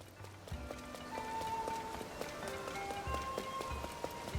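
Steady rain patters softly in Zelda: Tears of the Kingdom at Kakariko Village, mixed with running footsteps and faint musical tones, all quiet and continuous.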